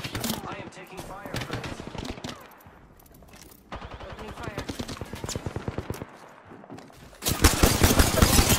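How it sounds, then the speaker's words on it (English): Rapid automatic gunfire in a video game firefight, dense bursts of rattling shots that continue for seconds, pause briefly, then return louder and more intense, with a voice speaking over parts of it. "I am taking fire."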